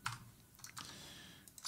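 Computer keyboard keys clatter in quick, uneven bursts during play of Dark Souls 1, several close, crisp clicks over a short span with no talk.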